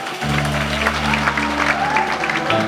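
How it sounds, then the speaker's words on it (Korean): Guests applaud the bride's entrance at a wedding hall in Gangnam, Seoul. Close, lively clapping runs through nearly three seconds over sustained instrumental wedding music. "여러분 뜨거운 박수로 맞이해 주시기 바랍니다"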